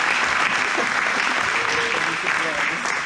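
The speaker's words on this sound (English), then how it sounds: "we can give him a little round of applause for that." Audience gives a round of applause at an aviation fish fry gathering, steady dense clapping from a crowd filling the whole three seconds.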